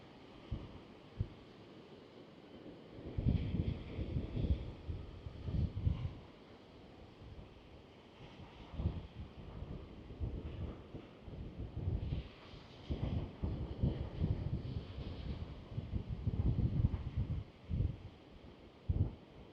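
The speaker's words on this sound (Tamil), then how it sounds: "நல்ல காற்று, எனக்கு ஃபோனே நிற்கிது இல்லை" Strong wind in Batticaloa, Sri Lanka, buffets the microphone in low, rumbling gusts that swell and fade over a steady airy hiss.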